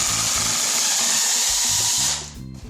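A power drill whirs steadily while backing a screw out of a wooden rocking horse part, a close, continuous motor drone with a faint pulsing rhythm, winding down near the end.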